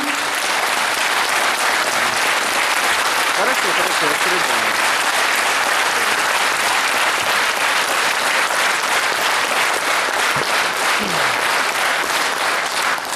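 A theatre audience gives sustained, loud applause for a performer on stage, a thick, steady wall of clapping for over ten seconds with faint crowd murmur.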